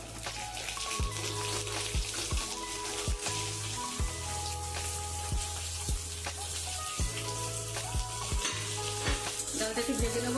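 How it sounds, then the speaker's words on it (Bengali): Mung and masoor dal fry together in a pan with a steady close sizzle, while a spatula scrapes and stirs in regular strokes throughout. No one speaks. "ডালটা একটু ভেজে নেবো।"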